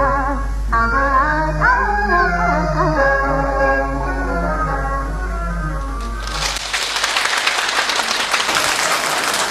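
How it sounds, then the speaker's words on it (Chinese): At a 1983 Yue opera gala, a sung, harmonic passage gives way after about six seconds to loud, sustained audience applause that fills the rest of the clip. "你看大家掌声那么热烈"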